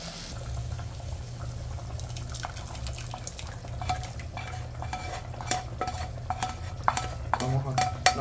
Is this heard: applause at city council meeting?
no